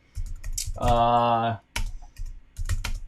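Rapid clicking of keys on a computer keyboard, typed in short bursts close by, with a person talking over and between the keystrokes.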